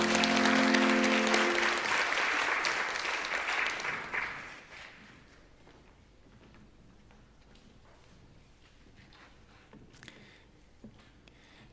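A church congregation applauds during a Sunday worship service, loud dense clapping that fades out after about four seconds into a quiet room with faint scattered noises.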